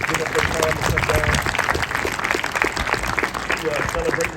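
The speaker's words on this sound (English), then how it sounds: "Let's give them a round of applause" Guest speakers at a Route 66 bridge celebration in Waynesville, Missouri, receive steady audience applause, a dense continuous patter of many hands clapping from start to finish.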